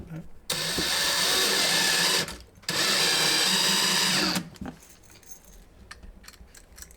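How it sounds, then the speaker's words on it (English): Power drill pre-drilling screw holes near the edge of a wood board while boxing in A/C lines in a closet of a 1980s mobile home. Two loud, steady whirring bursts of about two seconds each, separated by a short pause, then quiet handling sounds. "I'm going to pre-drill holes for where I want the screws so that it doesn't split near the edge."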